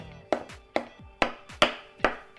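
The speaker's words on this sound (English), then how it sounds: "I'm chopping my mushroom." A knife roughly chops mushrooms on a cutting board in a home kitchen, five or six sharp, evenly spaced thuds close by, with no voice.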